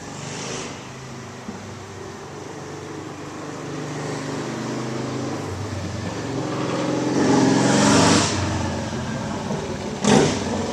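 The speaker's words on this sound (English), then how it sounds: "I apologize for all the traffic sounds. I am sitting at a public park, so there's going to be vehicles driving by." Road traffic passing a public park, cars and engines swelling by one after another at moderate distance, with a louder vehicle rushing past near the end and a brief sharp burst just after.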